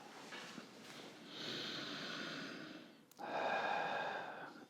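Belly breathing shown during exercise instruction: a long, steady airy breath lasting a couple of seconds, then a brief pause and a second, stronger and noisier breath, close and fairly loud with no talking.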